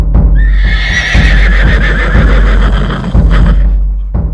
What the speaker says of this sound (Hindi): घोड़ों की हिनहिनाहट